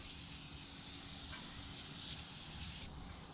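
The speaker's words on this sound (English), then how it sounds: "I'm not sure if I like the aerosol can or not." Steady hiss of an aerosol cleaner being sprayed continuously onto a surface during scrubbing and washing, fairly even and moderately loud throughout with no talking.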